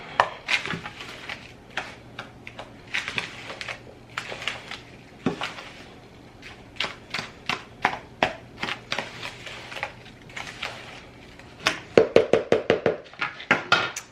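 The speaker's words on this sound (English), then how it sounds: "Stir it in." Homemade brown sugar stirred and scraped in a container, a series of close, sharp clicks and taps with a quick rapid burst of scraping strokes near the end, no voices.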